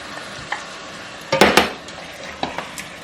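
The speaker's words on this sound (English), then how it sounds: "Okay, let's mix this all well." Ginger, garlic, onion and green chili paste stirred into a pan for chicken pulao, giving scraping clatter of a spoon against the pan, with a few louder knocks clustered mid-clip over a soft background sizzle.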